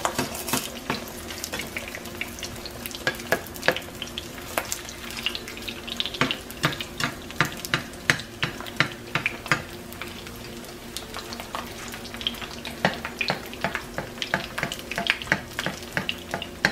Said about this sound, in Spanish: Le van poniendo la grasita en medio para que se vayan friendo bien.